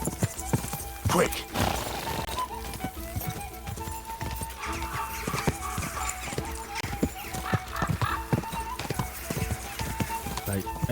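Rapid, rhythmic hoofbeats of a galloping horse in the video game Kingdom Come: Deliverance II pound steadily throughout, with a brief whinny and game sounds mixed in, a voice speaking over it.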